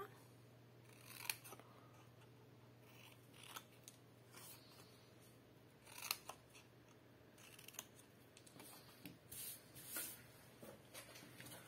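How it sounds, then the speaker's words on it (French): Scissors cut paper along a fold for an Advent calendar craft, giving faint, close snips and crisp slicing strokes in irregular bursts over quiet room tone. "je coupe sur le côté court le long du pli"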